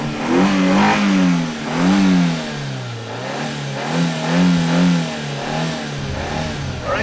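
A Mitsubishi Xpander rally car accelerates uphill on a mountain road, its mid-pitched engine revving loudly and rising and falling in repeated surges, close and steady throughout.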